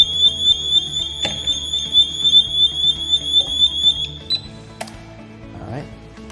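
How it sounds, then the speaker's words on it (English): A high-pitched electronic alarm from an InVue CT300 anti-theft tablet stand beeps in a fast, steady pulse for a few seconds, then cuts off, followed by clicks and handling noises. "The default for the CT300 stand is to come with the alarm audible, just demonstrated."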